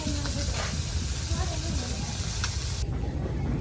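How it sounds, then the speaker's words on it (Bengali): Fish frying in a pan during rural outdoor cooking, giving a loud continuous hiss and sizzle throughout with faint background voices. "মাছ ভাজা হয়ে গেছে নাকি"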